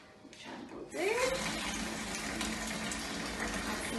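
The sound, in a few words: water filling a sink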